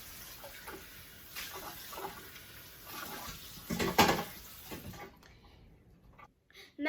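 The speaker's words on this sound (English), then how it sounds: "now we have to rinse it under cold water" Cold water runs from a kitchen tap while something is rinsed in a colander during cake baking, a soft steady splashing that swells in the middle and stops near the end.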